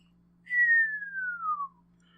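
A voice whistles a single smooth falling tone, imitating something dropping in a slow arc; it is clear and close, sliding steadily downward for about a second against a faint low hum, with no talking.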